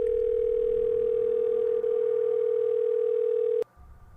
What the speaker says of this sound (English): I got a bunch of missed calls from Jay. Fuck, man, pick up.